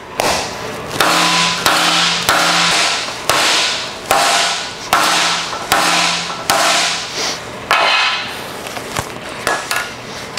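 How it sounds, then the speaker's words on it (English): A hand hammer strikes sheet metal over and over, stretching it into a bowl shape, with sharp ringing blows in a brisk, slightly irregular rhythm, loud and close. "I'm gonna stretch this even more with the hammer"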